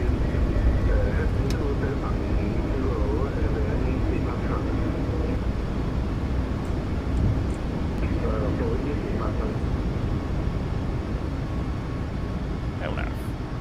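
Jet engines of a Ryanair Boeing 737 MAX roar steadily during the takeoff roll, a loud continuous rumble heard from the cockpit, with pilots talking over it.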